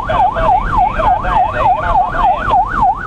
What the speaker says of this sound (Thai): สัญญาณฉุกเฉินของรถกู้ภัยดังขึ้น